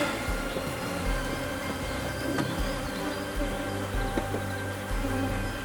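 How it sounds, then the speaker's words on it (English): Honeybees buzz around an open hive under inspection, a dense continuous hum close by with individual bees droning past, and faint rustling and occasional soft background sounds. "there's a lot of bees here on the very top"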